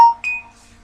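A smartphone notification chime sounds close and alone, two quick bright electronic tones, the second higher and ringing briefly before fading.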